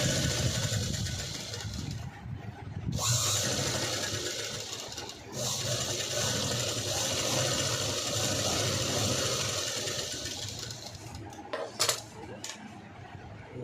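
A sewing machine stitches a zip blouse, running in a steady loud whirr with brief pauses near 2.5 and 5 seconds and a few clicks and knocks toward the end.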